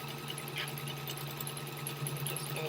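A sewing machine runs continuously doing loose free stitching, a rapid, even mechanical whirr with fast rhythmic needle ticking, close and fairly quiet.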